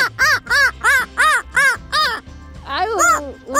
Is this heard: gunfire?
no